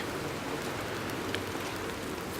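Steady, dense hiss of rain falling, even and continuous with no voices, a constant wash of drops close by.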